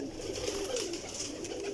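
Pigeons coo softly in a breeding loft, a short low rolling call repeated under faint background noise.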